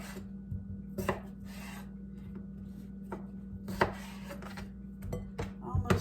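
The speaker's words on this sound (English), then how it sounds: "So we'll cut these potatoes up." Knife chopping seed potatoes on a cutting board in a home kitchen, a few sharp knocks spaced irregularly over a steady background hum, fairly faint and close.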